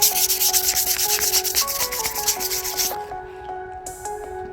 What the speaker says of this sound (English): coarse removal. So it's the rough sandpaper.